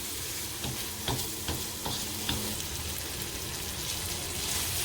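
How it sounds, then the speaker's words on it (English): Basil sauce going into a pan of pasta for cheesy basil pasta, with a steady sizzle, a few stirring scrapes and clinks near the start, and no talking. "we are adding in the sauce right now"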